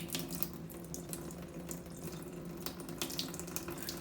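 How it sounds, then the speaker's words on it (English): Water poured off from a cup holding mashed strawberry pulp and seeds, a steady close trickling and splashing that runs continuously into a sink with no talk. "As I pour off the water, you'll start to see more seeds."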